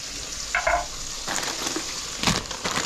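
Chicken skin fries in a hot pan for a chicken ramen, a steady close sizzle with crackling bursts and a brief stir, no talking.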